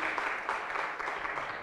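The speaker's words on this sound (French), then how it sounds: "On peut les applaudir." Brief burst of applause from a conference audience thanking the panelists at a startup launch event, a dense wash of clapping at a moderate, even level.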